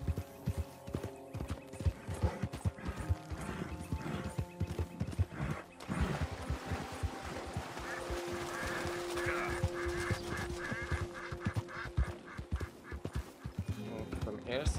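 Horse hooves clip-clop steadily through a Red Dead Redemption 2 game scene, a close rhythmic trot running under someone talking, with brief game sounds in the background.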